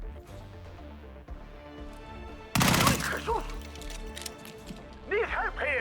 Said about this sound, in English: this is another place where our submachine gun can come in handy